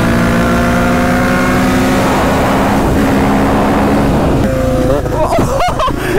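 Engine revving loudly and continuously at a race track, a dense roar with rising and falling pitch, close by, with a voice speaking over it near the end.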